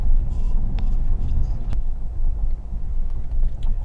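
Cabin of a car driving toward a small-town downtown area in Michigan, a continuous low road rumble and engine hum with faint wind noise, steady and close throughout, no voices.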